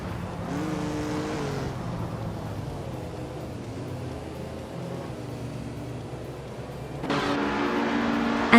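A 1979 Puma GTE race car engine in a racing video game drones steadily throughout, its pitch holding and shifting slightly before the revs climb again near the end, loud and continuous with no talking.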